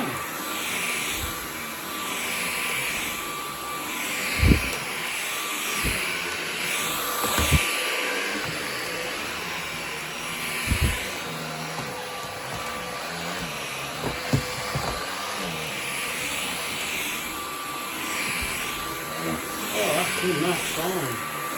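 LEVOIT LVDC200 cordless vacuum cleaner running over a thick-pile rug, a steady close whirring drone throughout with occasional bumps and knocks as it is pushed, while someone talks over it at times.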